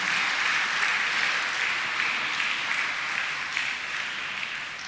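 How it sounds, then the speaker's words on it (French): A church congregation applauding during a Sunday mass, a steady wash of many hands clapping together that holds for several seconds and tapers slightly at the end, with no speech over it. "Merci de les applaudir."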